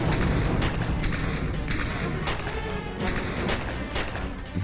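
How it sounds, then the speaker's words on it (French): A muffled burst of 21 gunshots fired by two shooters within a few seconds, irregular cracks and thuds in quick succession over a constant noisy background, fairly quiet overall. "21 coups de feu en à peine quelques secondes."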